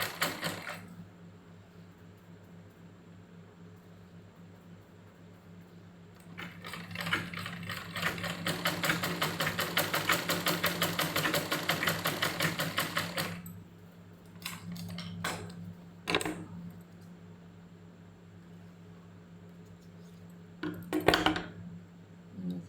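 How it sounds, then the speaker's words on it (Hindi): Hand-cranked sewing machine stitching umbrella fabric, quiet at first, then a long, loud stretch of fast, even mechanical clatter as the wheel is turned, followed by scattered clunks and knocks. "धीरे से ये हाथ से पहिया घुमाया और ये सिल लो"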